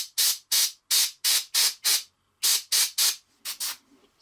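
Airbrush spraying paint onto a miniature army model, sounding as a series of about ten short, sharp hissing bursts in a steady rhythm, close and clear with brief silent gaps.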